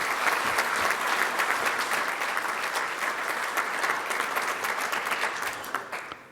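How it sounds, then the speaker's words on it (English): An audience at an annual sports breakfast gives a steady, dense round of applause for several seconds. The clapping thins and fades at the end. "So let's give all the sponsors a round of applause for having this event."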